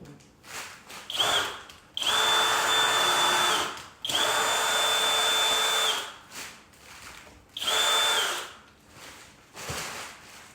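A power drill drives screws in repeated bursts of several seconds each, with short pauses between, close and loud, during repair of a property with foundation problems.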